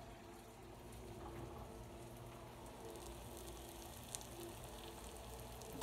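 A hamburger patty sizzles on a grill in a soft, steady crackle, faint and continuous with no talk over it.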